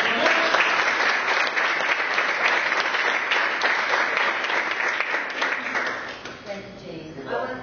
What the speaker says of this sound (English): put your hands together for Linda Smith